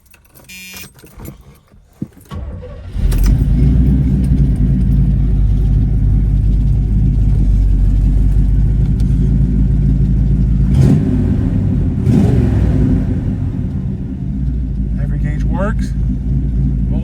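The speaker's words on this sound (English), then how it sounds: "So I'm going to start the car up so you guys can hear the car." Keys jingle, then a 1978 Chevrolet Malibu engine cranks and catches, settling into a loud, close, rumbling idle with a brief rev partway through.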